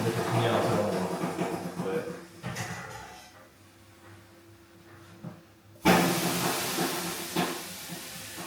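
Water thrown on hot sauna stones makes a loud, sustained steamy hiss that surges up, fades, then erupts again sharply, with voices talking faintly underneath.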